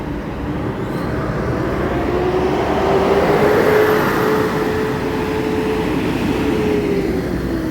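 An ANS Patriot bus rolling into a bus terminal, a loud, close, sustained engine roar with a steady droning tone that swells and fades slightly as it passes.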